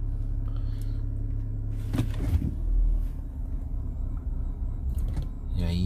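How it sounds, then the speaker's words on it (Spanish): A 2011 BMW 328i engine idles rough with a steady low rumble and an uneven pulsing, close by, plus a few brief clunks along the way and a short sharper sound at the end. "No sé si alcanzan a escuchar el sonido del motor, que está ta ta ta ta ta ta"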